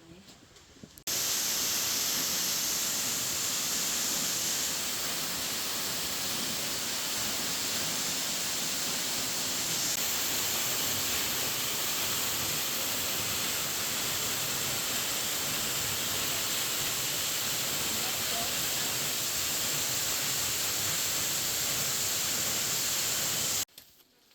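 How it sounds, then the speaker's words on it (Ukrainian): A large waterfall pours inside a half-cave in the Adršpach sandstone rock town in Czechia, giving a dense, continuous broadband roar that stays steady and loud throughout, rising in at the start and cutting off at the end. "Цей великий водоспад знаходиться в напівпечері"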